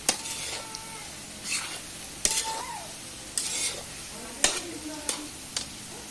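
Potato sabzi with coriander powder stirred in a pan: repeated scraping spatula strokes in short bursts with occasional sharp clanks against the metal, over a soft steady sizzle, close and fairly loud.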